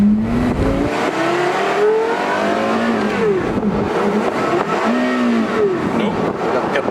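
Manual Porsche Carrera GT engine revving as it pulls away in gear, the note rising and falling in several loud sweeps close by while voices talk intermittently over it.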